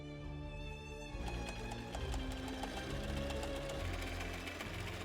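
A sewing machine top stitches a silk edge on a corset to form a boning channel, its needle chattering in a fast, steady mechanical rhythm, close and alone after a brief quieter start.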